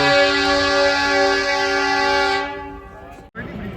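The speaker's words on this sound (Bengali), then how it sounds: "ট্রেন চলে গেল ধরমপুর ছেড়ে" A Kalka-Shimla toy train pulling out of Dharampur station sounds a long, steady horn blast that fades out, then outdoor station noise with people talking.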